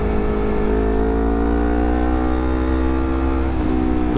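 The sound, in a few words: WRX exhaust on Honda CBR250RR motorcycle revving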